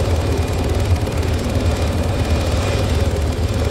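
A helicopter in the military video game ArmA 3 whirs continuously with a steady rotor throb and engine drone, loud and close, with no talking over it.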